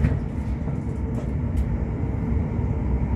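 Greater Anglia Aventra class 720 electric train arriving at a station, a steady low rumble and rolling hum of the carriage, fairly loud and constant throughout, with no voices.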